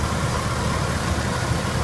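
A 1991 Chevrolet S10 pickup engine idles steadily at close range, a constant low rumble with even loudness throughout and no voices.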